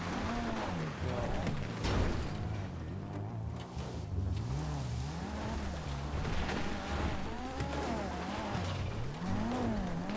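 A powerful stolen Toyota Supra in a video game drives hard, its engine note rising and falling in repeated revving sweeps with tire noise, loud and continuous throughout.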